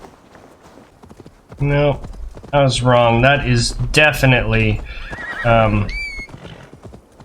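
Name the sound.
horse hooves clip-clopping in the video game Assassin's Creed Valhalla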